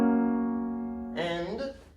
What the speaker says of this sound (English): so when you play a major chord, what our ears sound as nice, it sounds like this